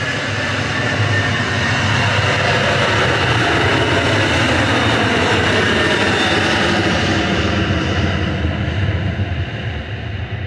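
A jet airliner roars down the runway on its takeoff run at Manchester Airport, a loud, steady, broadband engine thunder that holds strong throughout with a rumbling low end and a faint high whine.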